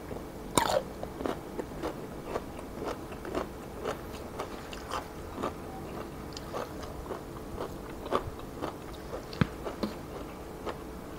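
Raw radish is bitten and chewed in a run of crisp, close crunches, a dozen or so sharp bites spaced irregularly over several seconds with quieter chewing between, no talking.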